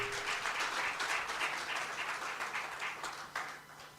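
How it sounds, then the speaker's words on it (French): Audience applause at a youth event in a hall, steady dense clapping from a crowd that swells and then slowly thins out, moderately loud and continuous with no talk over it. "Est-ce qu'on peut encore une fois applaudir pour MOGES?"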